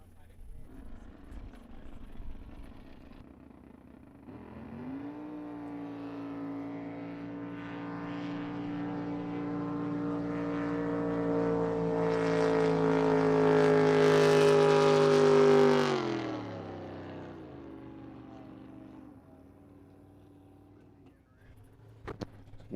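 Drag boat racing run at a Southern Drag Boat Association event: a high-revving engine builds from a distant drone into a loud sustained roar, rising in pitch, then cuts off sharply and fades away.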